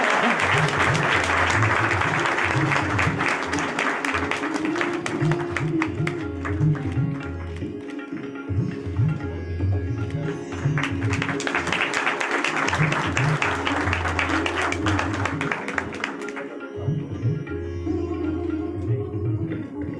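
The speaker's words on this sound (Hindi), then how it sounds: "एक जोरदार तालियों से इनका स्वागत करें" Loud, sustained applause from a large crowd at a Bihar Diwas celebration event in Panaji, Goa, fills the whole stretch, steady and dense, with a brief dip before it swells again.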